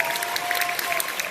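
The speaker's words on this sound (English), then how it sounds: "I'd just like us all to give them one more round of applause." Audience applause at an elementary school winter concert for 4th and 5th grade band and chorus: dense, steady clapping from a full room that continues evenly throughout.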